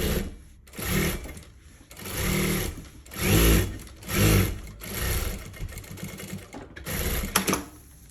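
A sewing machine stitches the second side of a beginner's zipper pouch in several short close-up bursts of rapid whirring, with brief pauses between runs.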